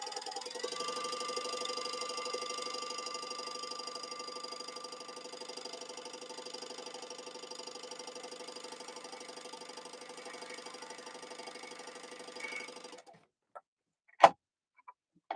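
A sewing machine winds bobbins with red thread, giving a steady rapid mechanical whir with a ticking rhythm for about thirteen seconds, then stopping, followed by a few faint clicks and one sharp knock.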